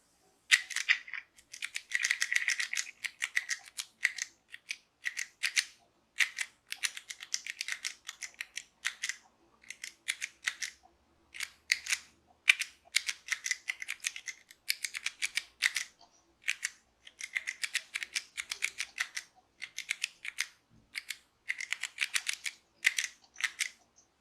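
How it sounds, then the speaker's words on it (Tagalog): Rapid typing on a chord keyboard, dense bursts of crisp, close clicks in quick clusters with brief pauses between, continuing steadily throughout without voices. "So, as you can see in the video, gumagamit siya ng chord keyboards."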